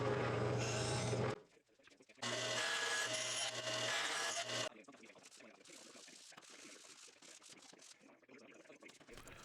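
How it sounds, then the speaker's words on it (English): Sanding a wooden mallet handle by hand, with two loud bursts of gritty rubbing strokes close up, followed by quieter, scattered scraping. "Here I'm sanding the handle smooth"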